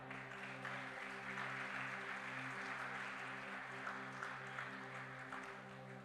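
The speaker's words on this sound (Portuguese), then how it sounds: "Pode aplaudir, por favor." Audience applause at a church service, a steady wash of clapping that holds for several seconds at moderate distance, with a faint tonal hum beneath and no speech.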